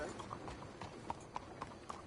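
Horse hooves clip-clop at a steady walking rhythm in Red Dead Redemption 2, each crisp hoofbeat standing out over a soft ambient bed, with a faint voice underneath.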